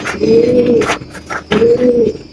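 A racing pigeon with a 2021 leg ring coos twice, each a low, rolling throaty phrase of about a second, separated by a short pause and heard close up with no talking.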